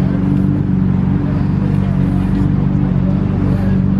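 Sports motorcycles idle and rumble steadily at close range during a memorial ride stop at a gas station, a continuous low engine drone with faint voices in the background.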